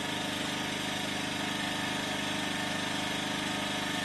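A Yamaha EF2000iS portable generator runs on propane with a steady, unbroken engine hum and drone, close and continuous with no talking.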